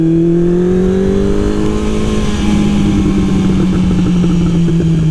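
The engine of a Honda CB 750 café racer motorcycle with about 80 horsepower drones loud and close as it pulls, with its pitch sliding slightly down and then holding steady.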